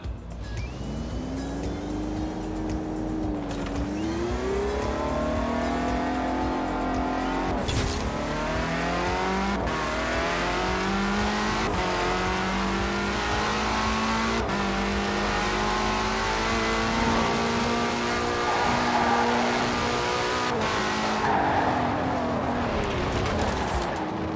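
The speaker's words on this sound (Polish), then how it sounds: "Nieźle śmiga ten samochód." A tuned Porsche 918 Spider race car in Forza Horizon 4 revs hard through rising and falling gear changes, with a few short shifts and breaks in between. Its engine note is loud and continuous throughout.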